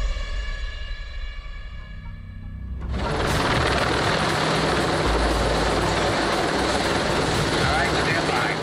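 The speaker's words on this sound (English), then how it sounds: "all the low-flying helicopters" Low-flying helicopters roar over a street during an action film shoot, the loud rotor and engine noise swelling in after a quieter start and then holding steady and dense to the end.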